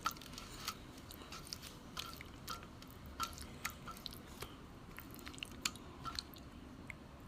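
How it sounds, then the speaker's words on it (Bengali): Fish being coated by hand in biscuit crumbs: soft, close squishing and gritty crunching in a steady irregular patter, quiet with no talking. "মাছগুলোকে মেখে বিস্কুটের গুঁড়োর সঙ্গে মেখে নেব"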